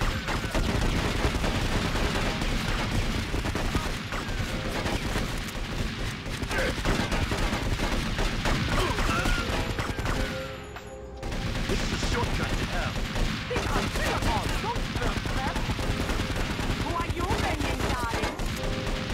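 Sustained heavy gunfire in GTA Vice City Stories, a video game, with dense automatic bursts rattling almost continuously, briefly dropping out midway, with voices talking faintly underneath.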